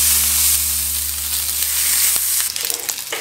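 Sausages sizzle in butter on a hot griddle, a dense close hiss under a low hum, followed by a crackly burst of spattering near the end.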